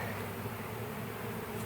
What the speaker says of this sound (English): see all the bees airborne right now?